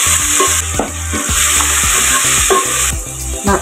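Tomatoes sautéing in a pan for prawn thokku gravy, with a loud continuous sizzle and a steady rhythmic pattern of strokes throughout, close up, no speech.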